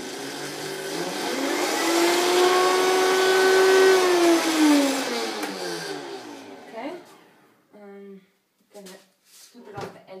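A blender whirs up to a rising, high-pitched whine as it purees raw strawberry and pear salad dressing, then winds down and stops, followed by a few short bursts and a voice speaking.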